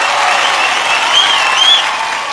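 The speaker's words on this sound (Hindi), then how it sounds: "माधुरी दीक्षित जी के लिए जोरदार तालियां" An awards-show audience gives actress Madhuri Dixit loud, sustained applause, a dense and steady roar of clapping from a large crowd.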